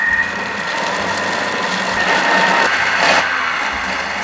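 A Thermomix spins ingredients at high speed, giving a steady, even whirring hum that holds at one level throughout with no talk over it.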